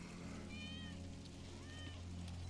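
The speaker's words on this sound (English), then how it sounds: "That's Wedge's cat." A cat in the video game Final Fantasy 7 Remake gives two short, high meows, the first longer and clearer, over a steady low ambient hum of the game scene.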